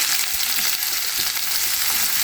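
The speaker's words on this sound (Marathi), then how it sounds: "मौरी मौरी चांगली तडतडली त्याच्यात टाकू राहिले जिरं आता टाकू राहिले कांदा" Cumin seeds and onion frying in hot oil in a home kitchen while cooking bitter gourd, a steady dense crackling sizzle close up, continuous and loud with no talk.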